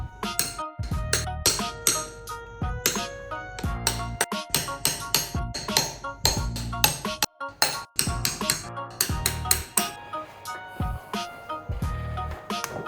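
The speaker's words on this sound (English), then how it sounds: "using a punch and a hammer to relieve the washers, to get access to the nuts that hold the crankshaft" Repeated sharp metallic knocks from a hammer driving a punch to free washers inside a small engine block, struck in rapid irregular bursts with brief pauses, close and loud, no talking.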